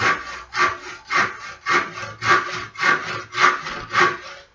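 A hand saw cuts through a piece of wood for a model boat in eight even, loud strokes, each one a rasping push-pull sweep in a steady rhythm, heard close and alone.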